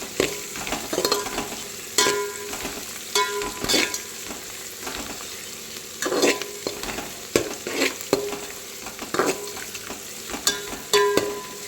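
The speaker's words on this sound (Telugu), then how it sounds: "మన ఆనియన్స్, మసాలాలు, పచ్చిమిర్చి, కొత్తిమీర, కరివేపాకు మంచిగా వేగిపోయినాయి." Onions, spices, green chillies, coriander and curry leaves fry in a pan for a tomato pulao, a low sizzle broken by repeated sharp scraping stirs of a spoon at irregular intervals, with no talking.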